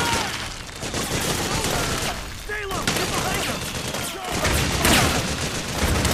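Gunfire in Metal Gear Solid 4 comes as dense, rapid bursts of shots with booming impacts, loud and close, continuing nearly nonstop with a brief lull in the middle.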